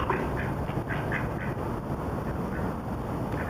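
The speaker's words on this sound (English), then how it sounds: "This is a different set of ducks." Ducks quack on a frosty night, a series of short nasal calls repeating at close range over a steady breezy, wind-buffeted background.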